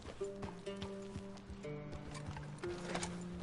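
A horse in Red Dead Redemption 2 makes hoof clatter and snorting noises, fairly soft, with brief tonal game sounds mixed in and no talk.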